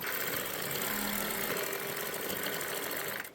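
A sewing machine runs steadily while stitching elastic onto an Afghani salwar, a fast continuous mechanical whirr heard up close that stops abruptly at the end.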